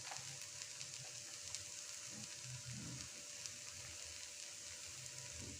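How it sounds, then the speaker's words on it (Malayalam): Grated coconut frying with wilted ridge gourd in a pan, giving a steady, close sizzle with soft crackles and faint stirring scrapes throughout, no voices. "ഇതിലേക്ക് നമ്മൾ തേങ്ങ ചിരകിയത് ഇട്ട് കൊടുക്കുക"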